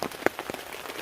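Rain falling on a wild camp during a rainstorm, drops pattering steadily and close on a bivvy bag and the ground around it, with a few sharper taps standing out and no voices.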